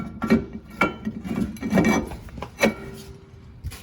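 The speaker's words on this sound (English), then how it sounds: "Now you want to put your rotor back on." Brake rotor slid back onto the rear hub of a 2006–2012 Mitsubishi Eclipse GS, close metallic scrapes, knocks and rubbing clunks in a short irregular burst.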